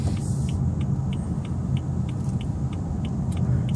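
A 2014 BMW 320i with a manual gearbox on the move, its steady engine hum blending with continuous low road and tyre rumble from inside the cabin, loud and even throughout with no talk.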